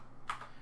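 A single faint keystroke on a computer keyboard, a quick soft click over low room hum.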